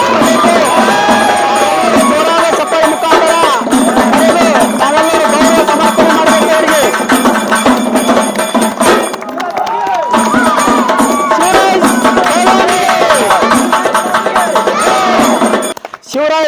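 A large crowd at a village wrestling event cheers and shouts loudly as the wrestlers arrive, a dense continuous roar of voices with a few clearer shouts that briefly drops off near the end.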